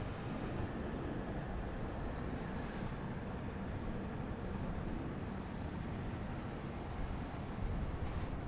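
An Embraer Phenom 300 jet touches down at night at Dallas Love Field, heard as a distant, steady broadband roar mixed with wind-like rushing and no voices.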